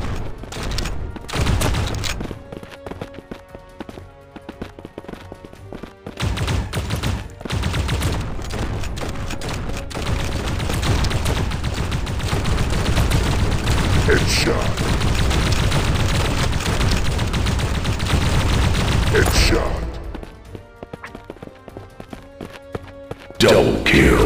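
Rapid gunfire from the mobile shooter game Wild Lands XL, with dense overlapping bursts and booms sustained for most of the stretch, loud and continuous before thinning out near the end.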